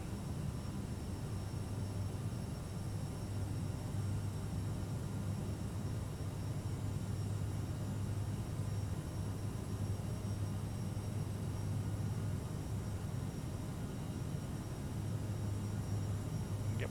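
Simulated airliner engines pushed to maximum thrust in Microsoft Flight Simulator 2020 over Zurich, producing an unbroken, even roar with a low steady drone and no talking.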